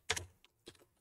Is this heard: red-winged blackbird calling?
no